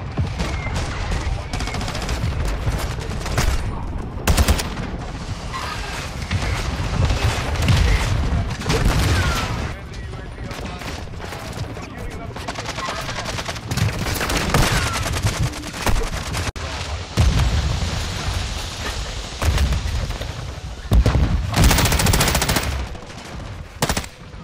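Rapid automatic gunfire and shotgun blasts in a multiplayer video game, dense and loud bursts continuing across the whole stretch with little pause.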